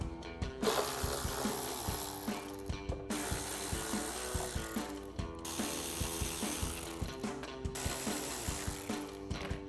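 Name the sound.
ratchet with T30 socket removing fog light screws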